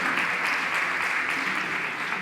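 Steady applause from a crowd, a dense even patter of clapping throughout with no talking.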